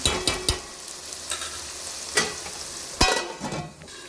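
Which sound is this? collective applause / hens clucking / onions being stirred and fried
onions being stirred and fried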